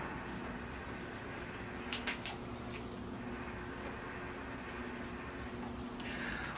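A repotted nightshade vine bonsai being watered: a faint, steady hiss of water pouring onto soil runs the whole time, with a few brief splashy spots and no talking.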